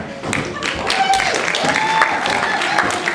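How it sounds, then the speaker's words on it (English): An improv-comedy audience applauds performer Cameron, giving a lively round of clapping that runs beneath a speaking voice for the whole stretch. "Big round of applause for Cameron."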